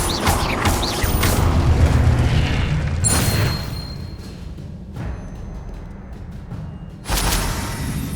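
Booming spell blasts in the Hogwarts Legacy video game, the Confringo fire spell, with loud explosive bursts near 0 and 3 seconds and another at 7 seconds, trailing rumble in between and no talk.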